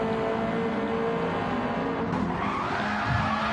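A race car in a GT sprint racing video game at Autopolis slides through a turn, its tires skidding in a loud sustained squeal over the steady engine roar, with no pause throughout.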